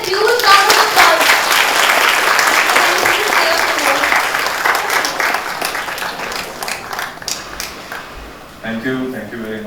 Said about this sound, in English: So can we please welcome him with a huge round of applause?